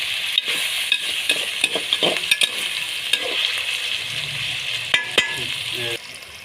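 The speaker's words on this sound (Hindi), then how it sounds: "अदरक लहसुन का कच्चापन आपने ख़त्म करना है, थोड़ा सा इसको ब्राउन करना है चिकन के साथ।" Chicken with ginger and garlic browning in a karahi, a continuous hiss of frying with scattered spoon stirs and metallic scrapes against the pan, close and moderately loud, no voices.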